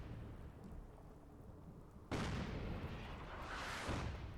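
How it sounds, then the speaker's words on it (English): An artillery shell fired in a video game erupts as a sudden broad blast that rumbles and roars for a couple of seconds, with a second swell of noise near the end, over a low background hum. "that's a waste of an artillery shell"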